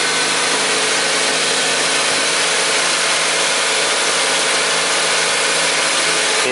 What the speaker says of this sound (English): In that area I can add more revs and soon we can hear small hammering sound.